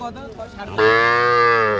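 A young heifer calf at a cattle market lets out a single loud, sustained moo after a brief quieter stretch, close to the microphone with no talk over it.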